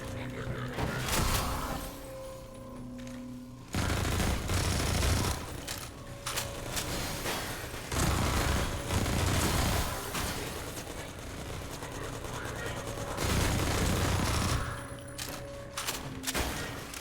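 Automated turrets firing in Half-Life 2 during a fight with soldiers, heard as intermittent bursts of rattling fire, with mechanical whirs and clinks between volleys at moderate distance.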